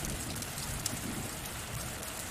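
Steady rain patters densely on a surface nearby, a continuous hiss with scattered closer drops and no voices.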